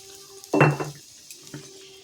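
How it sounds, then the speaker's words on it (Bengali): Spiced water from a spice bowl hits fish frying in a pan, a sharp sizzling splash that quickly fades, followed by a faint clink of the pan. "এই যে জলটা আছে, মশলার বাটি দেওয়া জলটা, এই জলটা আমি দিয়ে দিলাম।"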